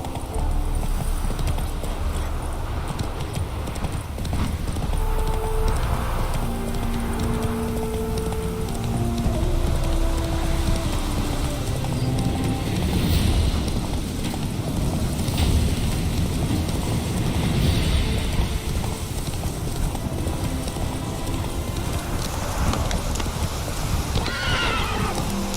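The horse Roach gallops through the Witcher 3 game world, its rhythmic hoofbeats running steadily under wind noise, with neighs and whinnies breaking in along the way.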